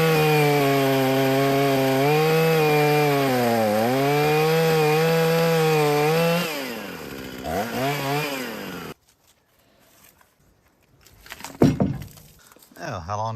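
A chainsaw runs loud and close as it cuts into a log containing hidden nails, a high whining drone that wavers under load for about six seconds, then winds down and stops, followed by scattered handling clatter.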